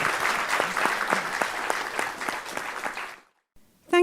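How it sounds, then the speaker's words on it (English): A symposium audience applauds its panelists with a steady, full round of clapping for about three seconds, then it cuts to silence before a brief voice begins. "ask a round of applause and thanks for our panelists"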